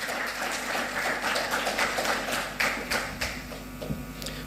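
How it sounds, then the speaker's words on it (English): Audience applause in a hall at a morning session, steady overlapping hand claps at moderate distance, fairly soft and continuous with a few louder individual claps toward the end. "So big round of applause to Anurag sir."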